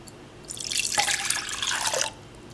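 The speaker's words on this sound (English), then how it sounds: "I have milk that is at 104 degrees, so I'm going to pour it in here" Warm milk at 104 degrees poured into a bowl of flour, sugar and yeast for Filipino pandesal dough, a close steady splashing stream lasting about a second and a half before stopping abruptly.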